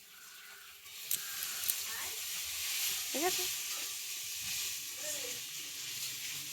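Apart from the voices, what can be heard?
fish frying in oil, sizzling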